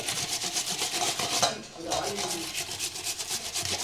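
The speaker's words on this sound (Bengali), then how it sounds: "এর জন্য আলুগুলো এটার সাহায্যে গ্রেট করে নেব এভাবে" Washed potatoes being grated on a hand grater, a run of rhythmic rasping strokes, close and fairly loud, with a brief pause midway.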